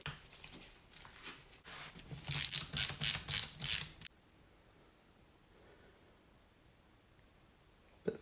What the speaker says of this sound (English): let's get these bolts off.